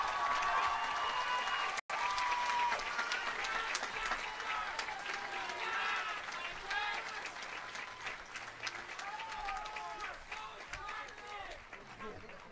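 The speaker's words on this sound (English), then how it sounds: "How about another round of applause for Dexter Jarek?" A graduation audience for the class of 2017 bursts into sustained applause and cheering, with whoops and shouts from many voices over dense clapping that gradually thins.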